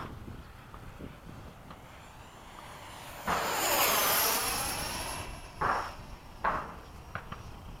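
Radio-controlled F-104 model jet on a 6s 50c 6200 mAh Hobby Star battery pack at LFE, a rising electric ducted-fan whoosh sweeping past overhead with Doppler shift, then fading, with brief louder bursts.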